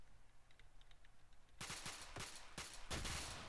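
Fully automatic 7.62 rifle fire in the military shooter ArmA 3, a few loud rapid bursts of gunfire breaking in after a quiet stretch, with sharp repeated cracks close by.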